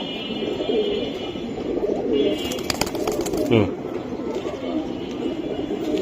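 Pigeons, Silver Giribaz, Pankhi and Beji breeds, coo softly among a mix of bird calls at a pigeon market, with a burst of wing or handling noise midway and background chatter.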